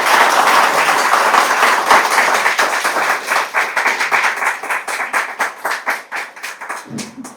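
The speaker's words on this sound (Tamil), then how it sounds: "ஒரு அரங்கம் நிறைந்த கைத்தட்டலோடு ஐயாவை நாம் சந்திக்கிறோம்" A studio audience claps to welcome a speaker. The applause is loud and close and starts as a dense wash, then thins into distinct rhythmic claps before ending.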